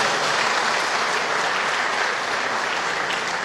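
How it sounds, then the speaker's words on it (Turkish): Audience applause at a Turkish public event with local officials present, steady dense clapping from a crowd throughout, loud and continuous with no speech over it. "Alkışlatacaktım onları."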